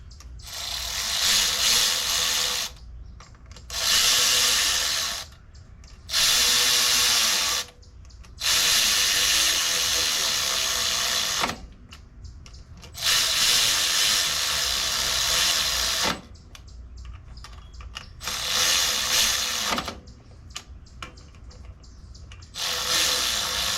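Bursts of ratcheting as clutch bolts are screwed in on a 2006 Yamaha YZ125 motorcycle, several loud close runs of rapid clicking with short gaps between them.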